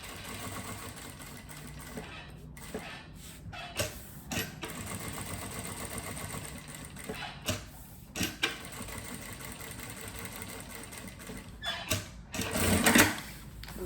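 A sewing machine stitches around a small pouch in short bursts, its rapid whirring runs broken by brief pauses and clicks, close and fairly quiet, with no one talking.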